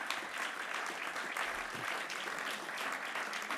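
A hall audience claps steadily for an honorary diploma being awarded at the IRIS 2023 ceremony, a dense, even wash of many hands that holds at a fairly loud level from start to finish.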